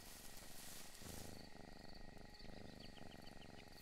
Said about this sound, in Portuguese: Por que que eu tô ouvindo... Ronronar?